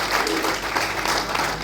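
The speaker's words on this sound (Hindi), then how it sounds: "इनके लिए जोरदार तालियां" Brief burst of audience applause at a Brahma Kumaris event in Ambala, a steady wash of many hands clapping for under two seconds, moderately loud with a faint background hum.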